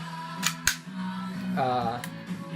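A WE XM177 gas blowback airsoft rifle fitted with a real steel spring and buffer, running on propane, fires a couple of sharp close snaps as the bolt cycles and locks back, followed by a brief faint ringing tone.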